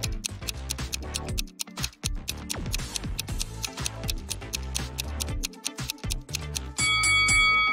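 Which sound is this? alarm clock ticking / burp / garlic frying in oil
alarm clock ticking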